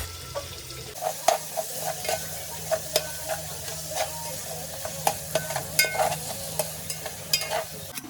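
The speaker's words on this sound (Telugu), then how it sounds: "తర్వాత కొన్ని బఠానీలు వేసుకున్నాక ఒక స్పూన్ అల్లం పేస్ట్ వేసుకొని మళ్ళా తిప్పుకోండి." Peas and ginger paste are stirred in a frying pan, a soft frying sizzle under regular scraping spoon strokes and light taps against the pan, close by and with no speech.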